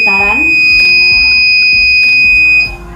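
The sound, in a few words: buzzer sounding on earthquake detector project when vibration detected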